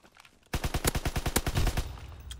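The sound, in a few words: gunfire in a first-person shooter video game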